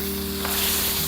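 Eggs and spices sizzling in a frying pan as they are stirred, a steady close hiss that swells slightly midway, with no talk over it.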